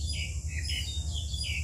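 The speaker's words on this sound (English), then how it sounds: "The bird is looking for food." Small bird chirping in a series of quick, bright tweets, fairly close and clear over a low background hum.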